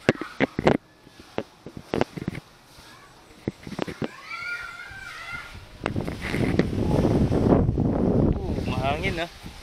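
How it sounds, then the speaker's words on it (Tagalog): Steady wind rushes past the microphone, mixed with rustling and a few sharp knocks, while people talk nearby during a Carabao mango harvest. "Hangin na."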